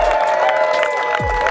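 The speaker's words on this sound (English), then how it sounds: "Let's do a round of applause for the Furbies." Outdoor crowd at the Gambler 500 off-road event cheering and clapping for people dressed as Furbies, a steady mix of whoops, shouts and applause with a voice talking through it.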